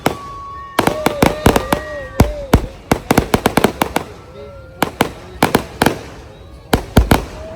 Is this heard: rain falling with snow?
no